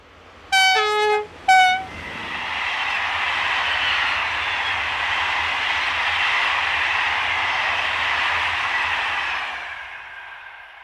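French diesel locomotive 26040 on the Paris to Orléans line gives two loud horn blasts, then rumbles steadily past at close range for several seconds before the noise fades away.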